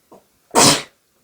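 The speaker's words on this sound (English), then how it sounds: "I'm about to sneeze." A faint intake of breath, then one loud, close sneeze bursting out sharply and fading quickly.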